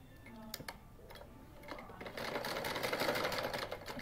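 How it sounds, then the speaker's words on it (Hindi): A sewing machine stitching a sleeve, its needle running in a fast steady rattle that starts in short bursts and then settles into a continuous run, close by with a voice speaking faintly under it. "इस तरीके से हम पूरे पर सिलाई लगाएंगे।"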